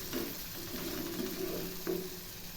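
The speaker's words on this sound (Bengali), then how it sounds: "আবারও একটু কষিয়ে নিচ্ছি এই মশলাগুলো দিয়ে" Spices for a taro curry fry in a pan, a soft, quiet sizzle with a few gentle stirring scrapes breaking through it.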